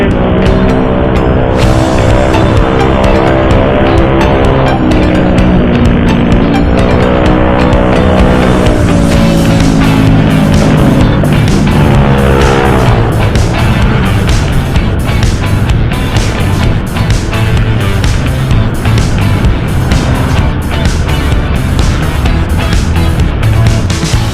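A motorcycle engine roars loud and close throughout a night ride, with a rising and falling revving tone and continuous road and wind noise; no talking is heard.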